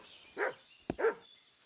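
A dog in the game Kingdom Come Deliverance 2 gives two short, fairly faint barks, with a brief sharp knock between them.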